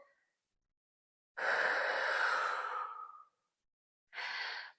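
A long, breathy exhale of about two seconds during a Pilates reformer core workout, followed by a shorter second breath, close and clear in a quiet room.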